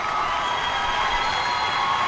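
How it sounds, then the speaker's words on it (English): A basketball crowd at a girls' high school game between Keshequa and Pembroke cheers loudly in a gym, a dense, sustained roar of shouts and applause filling the space without a break. "Woo, this crowd from Keshequa is going crazy."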